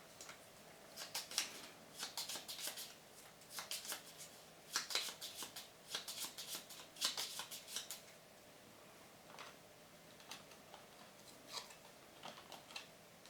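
Gloomhaven board game cards being shuffled, a quiet series of crisp riffling bursts in several quick rounds, then fading to softer, sparse card snaps near the end.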